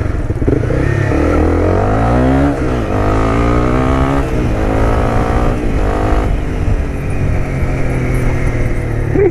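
A Honda CBR 250 R sport motorcycle with an aftermarket Akrapovič exhaust revs loudly and repeatedly, its pitch climbing and dropping in several surges, close and raw with a throaty exhaust.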